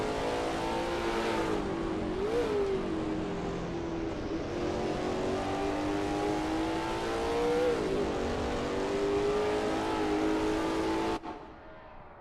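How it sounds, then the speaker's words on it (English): Lola T70 MkII Spyder race cars in a racing video game at Brands Hatch GP scream past, loud engine drone with rising and falling pitch as they speed by, ending abruptly into quieter background. "There's not much better than sitting near here and watching the cars speed by."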